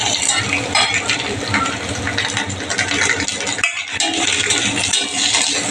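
Vallarai leaves and grated coconut being sautéed in a pan, a loud, dense sizzle with clattering stirring throughout and one brief lull partway through, heard up close with no voices.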